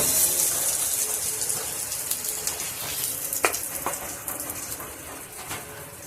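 Eggplant pieces frying in oil in a pan give a steady, close sizzle with crackling spatters and a few sharper pops, continuing on their own without talk.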